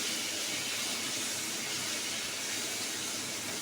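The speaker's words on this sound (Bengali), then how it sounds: "এবার এটাকে আমি তেলে নাড়বো, ভাজবো" Gobindobhog rice stirred and fried in oil and ghee over a low gas flame, giving a steady, dense hiss like frying with no distinct clatter, alone and without talk.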